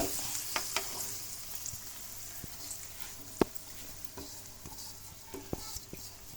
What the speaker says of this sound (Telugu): దీన్ని ఇప్పుడు బాండీలో నూనెలో తాలింపు పెట్టాం కదా